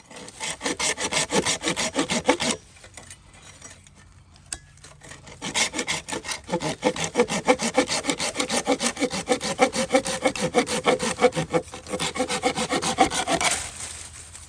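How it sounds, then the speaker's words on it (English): Hand saw cutting through a wooden tree limb in steady back-and-forth strokes, loud and close, with a brief pause before the rasping rhythm resumes. "All right, let's get to sawing"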